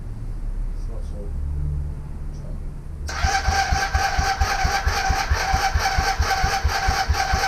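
Honda Superdream motorcycle engine cranking over and trying to catch, a fast rhythmic churning that starts abruptly partway through and runs on steadily and loudly, after a quieter stretch of low background rumble.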